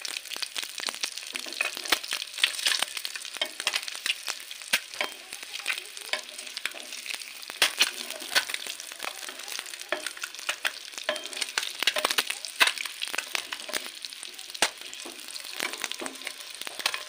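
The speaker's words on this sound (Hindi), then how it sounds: "हमारा अंडा बहुत सुंदर फ्राई हो रहा है, देख रहे हैं।" Egg frying in oil in a pan at home, a steady dense crackle of sizzling with sharp pops scattered throughout, close and continuous without any talk.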